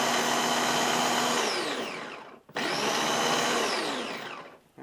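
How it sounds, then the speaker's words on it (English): An electric grinder grates and grinds wild rice in two loud, close bursts of motor whine and rattling grain, each run slowing and winding down before a brief gap. "See how it falls down as it grates it and grinds it up?"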